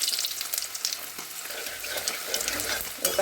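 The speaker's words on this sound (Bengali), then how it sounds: "এখানে একটু জিরে ফোড়ন দেবো।" Cumin seeds hit hot oil in a pan where kachki fish are also frying. A close, steady crackling sizzle with bright spits and pops runs throughout, with no talk.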